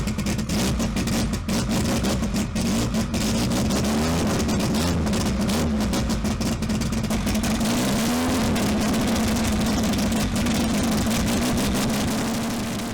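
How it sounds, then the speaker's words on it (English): A Nissan Skyline GTR R32 engine roars loud and close on the road, a steady high-revving drone with rising and falling pitch sweeps throughout, no voices. "What you're about to witness is the fury of a Nissan Skyline GTR R32."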